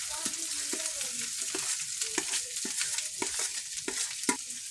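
Potatoes and onions frying in a pan, a continuous sizzle broken by scraping, stirring strokes at an irregular rhythm, close and clear.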